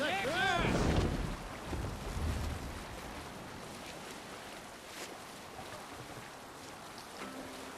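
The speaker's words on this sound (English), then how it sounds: "Good sailing wind here, Eivor. Sail out!" A Viking longship sails through wind and open water in Assassin's Creed Valhalla, with steady wind rush and waves. A brief voice opens the clip, then the broad wash of the sea continues alone.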